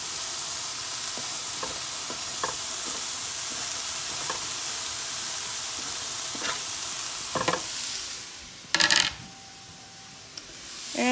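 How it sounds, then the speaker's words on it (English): Chopped celery, beef and pork fry in a pan with a steady, loud sizzle, stirred now and then with scrapes and clinks of a utensil, plus a brief louder rattle toward the end. "So I'm going to go ahead and throw that in the pan. Along with the beef, the pork."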